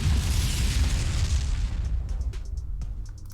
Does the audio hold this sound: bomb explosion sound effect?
yes